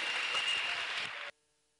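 Church congregation applauding, a dense burst of clapping that runs steadily and then stops abruptly.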